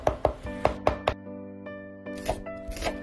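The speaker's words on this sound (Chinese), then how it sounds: "一小块姜拍扁剁碎，" A knife chops a small piece of flattened ginger on a cutting board, five quick sharp thwacks in a row, then a pause and a few softer, scattered cuts near the end.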